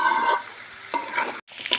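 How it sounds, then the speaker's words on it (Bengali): Pieces of roast desi chicken fry with onion in a pan, a soft sizzle broken by several stirring scrapes and clinks at close range, with no voices. "এখন আমি রোস্টটা দিয়ে দিচ্ছি, দিয়ে পেঁয়াজের সাথে একটু সুন্দর করে ভেজে নেব।"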